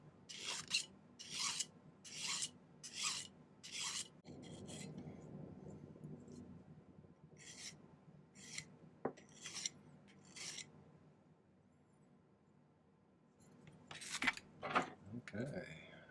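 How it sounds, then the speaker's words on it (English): Close rasping strokes of a file on a silver elk pendant, about five quick rhythmic passes at the start and more bursts later, with quieter handling and rubbing in between. "now I just have to do a little filing"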